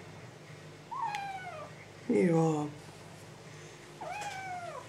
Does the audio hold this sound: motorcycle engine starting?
no